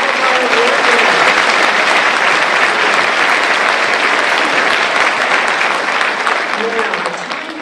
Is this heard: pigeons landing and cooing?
no